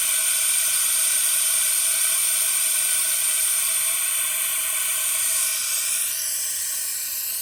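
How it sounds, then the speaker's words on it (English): A vacuum coolant filler tool pulls a vacuum on the cooling system of a 1995 Jeep Wrangler with the 2.5 engine during a radiator replacement, giving a steady, loud airy hiss and whine that continues with no break and eases slightly near the end. "Watch the gauge move, and then as it's vacuuming down"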